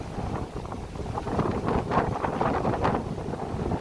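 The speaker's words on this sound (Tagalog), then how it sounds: "mahangin" Wind gusting at the coast in Coron, Palawan, a steady rushing buffet with some microphone rumble that swells in the middle and stays loud throughout, with no voices.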